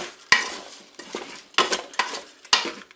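Fried potatoes and mushrooms seasoned with paprika, salt and pepper are stirred in a Cookeo cooker, with several sharp utensil scrapes and knocks against the pot over a soft sizzle, close and with no talk.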